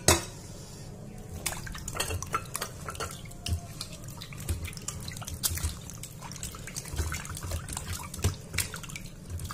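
Fish being washed by hand in clean water in a basin, with a steady run of splashes, drips and sloshing close by, and an occasional knock of the container.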